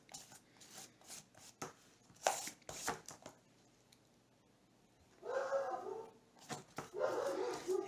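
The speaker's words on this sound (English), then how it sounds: "She's barking at the kids as they walk by." A female dog barks at children walking past a back gate: scattered sharp barks and yips, then clusters of louder barking near the end, fairly close.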